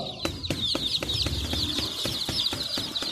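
Chickens on a poultry farm cluck and squawk in a dense, steady flock, with repeated sharp calls overlapping throughout and no voices.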